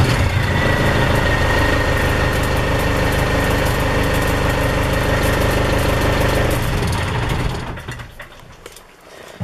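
A 4.5L Cummins diesel engine in a 1975 Toyota FJ40 Land Cruiser runs at a steady, loud idle with a deep rumbling drone, then winds down and falls quiet near the end.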